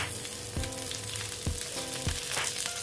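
Mustard seeds and curry leaves sizzle steadily in hot oil, a dense close frying hiss with a few sharp pops and crackles spaced through it, no voices.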